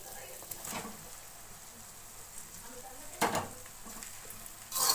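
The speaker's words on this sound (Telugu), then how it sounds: "ఇలా టమాటో మెత్తగా అయ్యాక రైస్ వేసుకోవాలి" Rice is added to softened tomato in a pan and stirred, a quiet steady sizzle with a few scraping stirs and a louder clatter of utensil near the end, under a voice talking.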